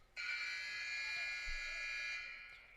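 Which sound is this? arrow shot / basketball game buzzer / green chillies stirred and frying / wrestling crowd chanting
basketball game buzzer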